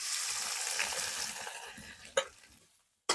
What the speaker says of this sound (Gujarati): હવે આપણે આ તેલની અંદર આપણે હળદરને સરસ એવી શેકી લેવાની